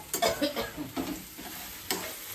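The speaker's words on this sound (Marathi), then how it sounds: "आता छान परतून घेणार आहे मी" Puffed rice with green chillies, peanuts and onion being stirred and sautéed in a pan, a soft sizzle under scraping strokes of a spoon in a few close bursts.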